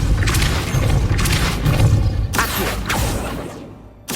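In Hogwarts Legacy, a Depulso spell is cast, bringing a series of booming, whooshing blasts and thuds, loud and close, in several bursts before fading to near silence at the end.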